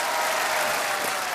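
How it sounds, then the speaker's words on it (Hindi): Studio audience applauding on a televised quiz show, a dense steady wash of clapping hands that carries evenly through the whole short stretch with no voices over it. "देवियों सज्जनों, ताली बजाइए इनके लिए"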